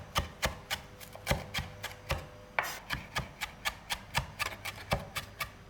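A knife finely chops cilantro stems on a board in a quick, even run of crisp, close knocks, with a short pause partway through before the steady chopping picks up again.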